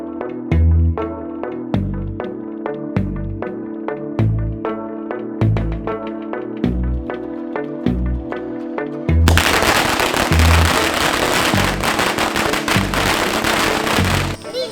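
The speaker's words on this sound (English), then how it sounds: "we're going to finish off with a nice firework montage with the neighbours" Fireworks going off outdoors with neighbours for Chinese New Year: a rapid series of loud booming bursts with sharp crackles, then a dense, continuous barrage of crackling and popping filling the rest of the sequence.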